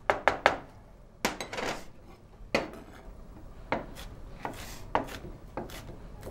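A knife roughly dices onions on a cutting board, making sharp, close taps in irregular bursts followed by quieter scraping and chopping strokes; nobody speaks over it.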